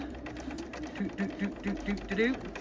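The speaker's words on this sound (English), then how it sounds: "So we're just going to do a nice straight stitch." A home sewing machine running a straight stitch on a scrunchie, a steady close mechanical whir with regular rhythmic needle pulses, while a person talks over it.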